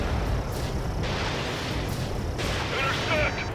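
Anti-aircraft guns fire in the combat flight game Ace Combat 7, a dense, continuous rumble of rapid booming bursts that runs the whole time with no pause.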